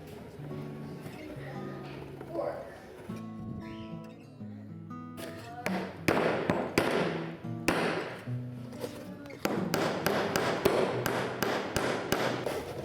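Nails are hammered into the thin board back of a two-string bocadillo guitar, with sharp taps in quick bursts that grow dense and steady toward the end, over a background of music.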